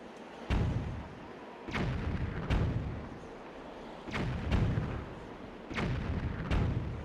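Repeated booming cannon shots in The Legend of Zelda: The Wind Waker, about eight heavy thuds in irregular pairs with rumbling decay between them, loud and without speech.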